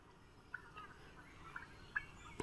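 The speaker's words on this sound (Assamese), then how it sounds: "আৰু এইটো দেখা পাইছে টাৰ্কি চৰাই, ডাঙৰটো" A turkey on a poultry farm gobbles several times, short faint calls from some distance over a quiet, low background hum.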